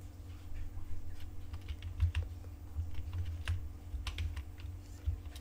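Code is typed on a computer keyboard: a steady run of quick, close key clicks with short irregular pauses over a low constant hum.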